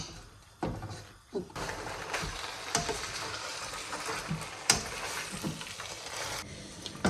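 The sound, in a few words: stirring and frying pasta mixture in a kadhai pan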